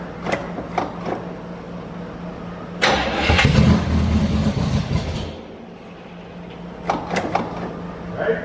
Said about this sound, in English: 2 pumps and crank it.